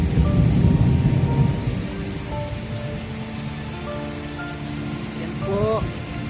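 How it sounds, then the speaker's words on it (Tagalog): Heavy, unrelenting tropical downpour beats near a roadside hut as floodwater rushes over the flooded road, with a loud dense roar up front that eases to a steadier wash; faint bird calls are scattered through it and no distinct thunder clap stands out. "Dahil po sa lakas ng ulan na walang tigil."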